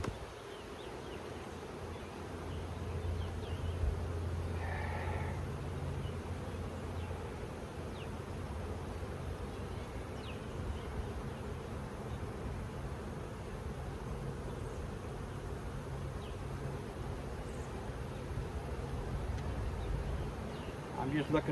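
Honeybees crowded in a box hum in a steady, low drone that holds for the whole stretch, moderately loud and close, with faint outdoor background noise.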